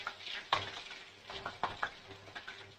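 Mushroom 65 pieces frying in oil, a soft bubbling sizzle punctuated by several light clinks and stirs of a utensil against the pan, fairly quiet and close, with no speech.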